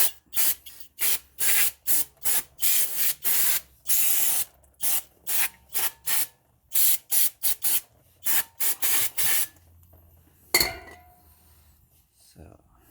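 Brake cleaner sprayed in short repeated hissing bursts onto the brakes of a Honda CR-V, close and loud, with a few faint clinks and a sharp knock near the end.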